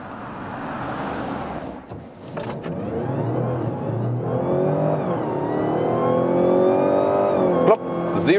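Mazda CX-60 plug-in hybrid with all-wheel drive and 330 horsepower combined output, accelerating hard from a standstill to 90 km/h, heard from inside the cabin as a steadily rising engine and electric drone with a brief gear-change dip.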